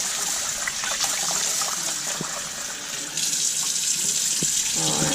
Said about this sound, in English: You want to just swirl it around, and rinse it again after you dump that water out.